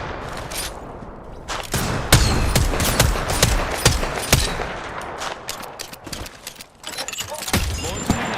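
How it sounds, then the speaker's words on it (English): Gunfire from a knuckle cluster weapon in a competitive video game match: rapid loud bursts and sharp cracks in irregular clusters, some overlapping, up close with a brief quieter gap before more shots. "Knuckle cluster's firing."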